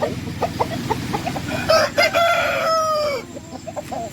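Game-breed roosters on a farm garden, with scattered clucks and cackles followed by one loud, close crow rising and stretching out before trailing off, then more clucking against a low background hum.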